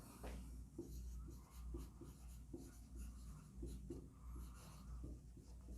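Chalk or marker writing on a board during a Class 12 maths lesson on vectors, with steady rubbing strokes in short bursts against a low room hum.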